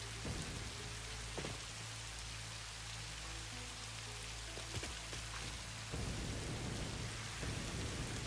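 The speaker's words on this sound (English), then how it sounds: "It can rain in this game." Rain falling steadily in the Satisfactory video game, a dense hiss of rain with low rumbling thunder underneath and a louder burst of rain near the end, with no talking.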